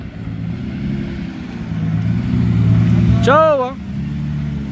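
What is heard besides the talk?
Lamborghini Murcielago driving away from car meet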